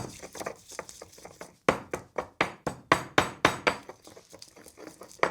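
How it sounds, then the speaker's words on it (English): Firm, rhythmic pounding of garlic and anchovy fillets into a paste, probably in a mortar, with a series of sharp, evenly spaced thuds that start softly and then grow loud and close. "Now 2 fillets of anchovies, and again, we're just going to pound it together"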